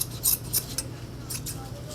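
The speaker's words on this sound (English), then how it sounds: "cut away those fins." Scissors snip felt trimmed around a styrofoam ball while a puppet is covered. Several quick, close cuts come in a loose rhythm with slight rustling between them.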